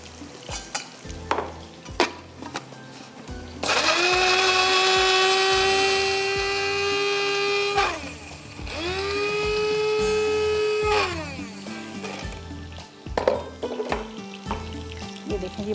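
A loud electric grinder grinding garlic whirs in two long bursts with a short pause between, its pitch dropping as it spins down each time.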